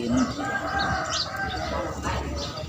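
Chickens cluck at a roadside grilled meatball stall, brief fowl calls heard close behind a busy, noisy background.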